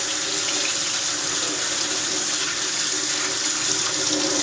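Cold tap water rinses a computer motherboard under a faucet, a steady loud hiss of running water splashing continuously with no talk.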